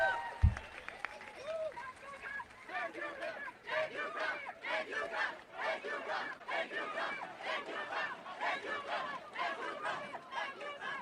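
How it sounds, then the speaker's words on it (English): A crowd at a rally for President Trump cheers and applauds loudly, a dense sustained roar of clapping and shouting voices that swells in waves after a brief thump at the start. "you got a thank you, Trump cheer coming out from this group"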